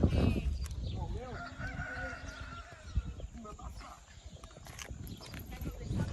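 A horse's hooves clip-clop at a cattle-herding park, irregular thuds close by with faint animal calls in the background, while people talk over them for most of the stretch.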